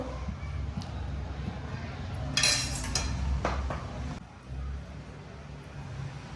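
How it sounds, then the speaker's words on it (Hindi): A metal spatula scrapes and spreads hot chikki across a ghee-greased steel plate, giving close scraping and clinking strokes, loudest in a short burst midway, while a person talks throughout. "इस पलटा से और ये ऐसा फैलेंगे इनको"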